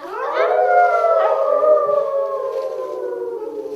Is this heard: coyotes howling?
yes